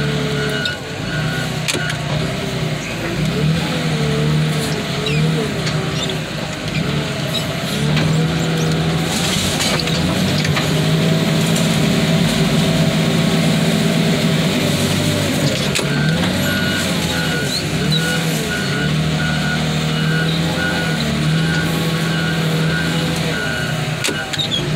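A heavy loader engine rumbles and strains steadily, with mechanical clanks and hydraulic whine rising and falling as it carries a car through a swamp.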